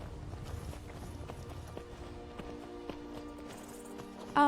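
Hooves of a noble's horse clip-clop at a steady walking pace in Skyrim VR, faint and fairly distant under a bed of ambient background noise, with a louder burst right at the end.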